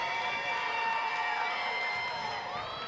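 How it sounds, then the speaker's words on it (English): A crowd at a girls' high school regional championship basketball game roars and cheers in a steady, sustained wash of noise from the gym stands, with a few sharper shouts rising near the end. "Listen to the crowd."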